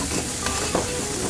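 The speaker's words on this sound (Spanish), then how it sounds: "Tenemos que ir dándole vueltas para que el arroz no se quede por el mismo sitio y tampoco se queme por un lado." Rice for a lobster paella sizzles and fries in a pan while being stirred, a dense continuous crackle with soft scraping strokes, close and alone without talk.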